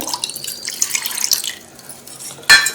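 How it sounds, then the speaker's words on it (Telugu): Water splashes and trickles into a bowl of cornflour batter in soft, uneven bursts, ending with a brief louder pour-like splash near the close. "ఇప్పుడు రెండో కప్పు వాటర్ వేసుకోవాలండి"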